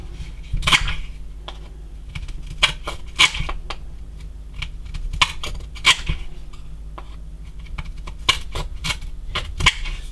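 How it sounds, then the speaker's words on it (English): Tin snips cut a circle out of sheet metal for a 5.8 GHz backfire antenna, giving a run of sharp, irregular metallic snips and clicks in short bursts, close up. "So now that we've got it cut out with the tin snips"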